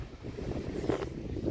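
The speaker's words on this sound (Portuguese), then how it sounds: "o vento tá forte" Strong wind buffets the microphone on Matosinhos beach in Porto, Portugal, a steady low rumbling gust with faint surf in the background, no voices.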